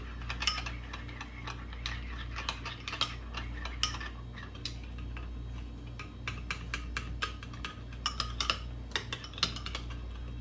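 A spoon stirs and clinks through a blush vodka sauce with a hint of spice, producing scattered metallic taps and scraping ticks over a steady low hum, close and fairly quiet.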